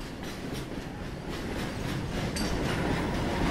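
A passenger train bound for Dehradun rolls along the rails with a steady, loud rumble and a faint clickety-clack of wheels. The sound is continuous and close, with no voices.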